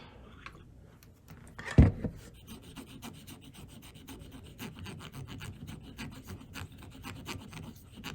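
A Q-tip rubs and scrapes at the damaged area of an Akai GX-R88 tape deck, making close, quiet scratchy strokes with one louder knock early on. No one speaks.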